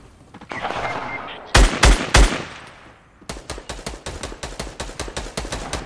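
Rapid assault rifle bursts in a 2v2 squad video game match: sharp loud shots around the middle, then a long steady stream of evenly spaced automatic fire to the end, over a background of game noise.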